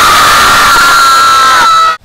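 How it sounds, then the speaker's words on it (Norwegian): Football crowd at a 4th division home match, a loud, sustained roar of cheering and shouting that cuts off abruptly at the end. "På Valstrand er det masse jubel."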